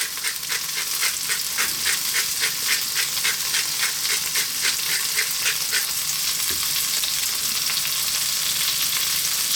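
Sliced ribeye steak and pitted black olives frying in a hot pan, with a loud, steady sizzle and rhythmic stirring strokes running throughout.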